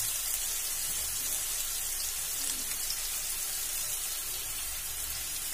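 Shevai vermicelli roasting in oil in a pan, giving a steady, dense hiss of sizzling that holds evenly throughout, close and continuous with no talking.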